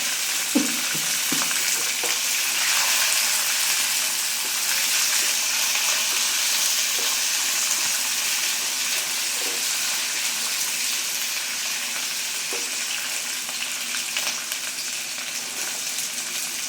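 Chillies fry in hot oil in a pan, a dense, steady sizzle with a few soft stirring clicks near the start. The sound stays close and unbroken, with no voices.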